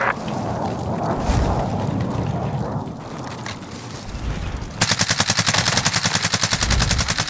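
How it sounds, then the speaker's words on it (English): A cluster air strike lands in Call of Duty: Warzone. A rumbling barrage of blasts gives way to a loud, rapid, evenly pulsed string of explosions in the final seconds, with no voices. "Allied cluster strike inbound."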